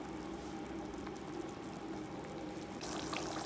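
Water poured into masala frying in a pan for hara keema: a steady, close liquid hiss and trickle running without pause, growing slightly brighter near the end, with no voices.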